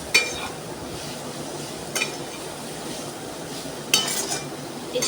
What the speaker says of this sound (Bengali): আর এখন ভাজছি বিট। ওই কড়াতেই ভাজছি।